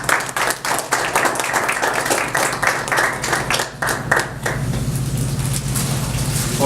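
Audience applause closing a university resume workshop: dense, steady clapping from a room of people, loud and continuous, with faint voices mixed in.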